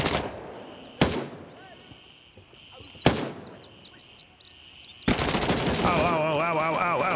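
Gunfire in the tactical shooter Gray Zone Warfare, heard as single loud shots about every two seconds that trail off into echoes, then a sustained close burst of rapid automatic fire, with faint bird chirps between the shots.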